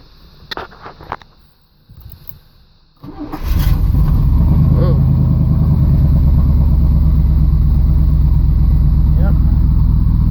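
A Chevrolet Camaro starter grinds briefly after a few light clicks and shuffles, then the cold engine catches and settles into a loud, steady rumble that holds to the end.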